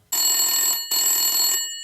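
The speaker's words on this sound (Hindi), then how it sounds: "एक बार फिर घंटी बजती है।" Two bursts of an old landline telephone bell ringing in a cartoon, loud and close, each about two thirds of a second with a short gap between, with no voices.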